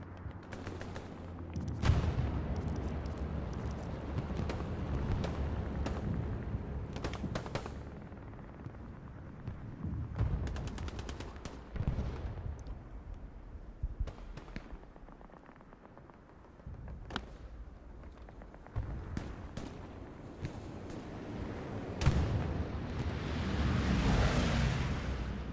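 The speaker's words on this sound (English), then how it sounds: "Bombing run called in from the Axis member" Explosions from a called-in bombing run thunder through a Hell Let Loose battle at the Stalingrad train station, heavy booms and rumbling blasts mixed with scattered gunfire, loud and sustained with no talk.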